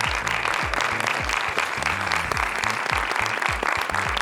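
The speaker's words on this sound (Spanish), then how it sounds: "Un aplauso, por favor, para el equipo de la película." A crowd at a film screening applauds the movie's crew, a steady busy wash of hand claps running throughout, with repeated low thumps beneath.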